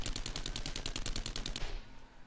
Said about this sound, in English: Oh, I hear the fucking AK